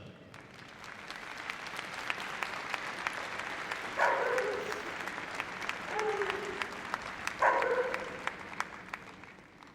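Audience applause at the Crufts 2012 dog show during the Kennel Club Junior Warrant Winner of the Year final, a steady moderate clapping from a large hall crowd while a dog and handler move, with brief louder swells.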